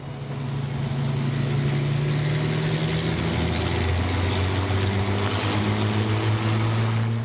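North American Harvard propeller trainer aircraft with its engine running, a loud steady droning hum with a low rumbling tone that shifts pitch slightly, close by and continuous, no voices.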